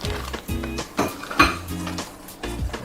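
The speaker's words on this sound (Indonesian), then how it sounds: "kita aduk-aduk sampai semuanya tercampur rata" Batter for Bandung-style batagor, flour-based, is stirred in a bowl, a utensil scraping and clinking against the bowl in a steady rhythm of repeated strokes, close and fairly loud.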